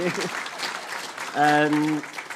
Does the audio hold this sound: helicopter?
no